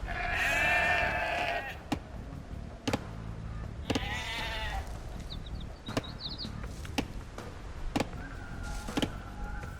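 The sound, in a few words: sheep bleating in the video game Age of Empires 2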